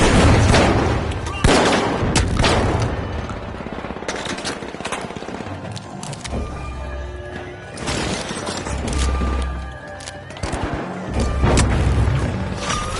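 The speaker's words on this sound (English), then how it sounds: "Sending a frag. Throwing the frag." Frag grenade explosions and gunfire from the video game The Finals make a dense, loud barrage of shots and booms with low thuds, while a game announcer voice speaks over parts of it.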